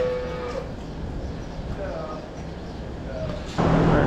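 Dairy cows mooing in a barn, several loud, drawn-out calls from close by over a constant background din of livestock and activity.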